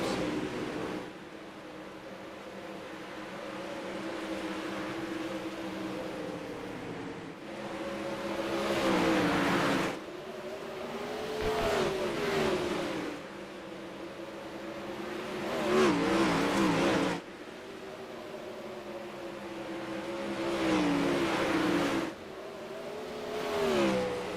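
A 360 sprint car at Cedar Lake in iRacing runs at full throttle, its engine a loud, continuous roar that rises and falls in pitch through shifts and corners, with no voices.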